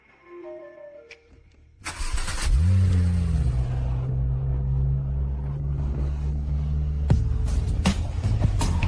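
A car engine cranks and catches after a few faint background sounds, then settles into a loud, steady, close hum as the car pulls away, with a sharp click near the end.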